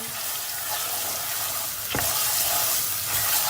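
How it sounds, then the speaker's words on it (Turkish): Tomato paste frying with toasted flour in a pot for lentil soup, a steady broadband sizzle with stirring scrapes and a brief clank near the middle, close and alone with no talk. "Bir yemek kaşığı domates salçası dökeceğiz. Salçamızı da iyi kavuracağız."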